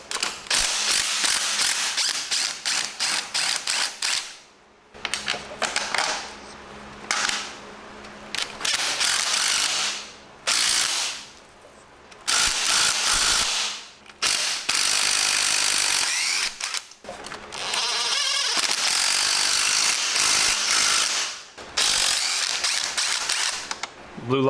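Ratchet and tool work on the subframe bolts of a wrecked BMW S1000RR, heard as loud bursts of rapid mechanical clicking and whirring separated by short pauses, with some background noise.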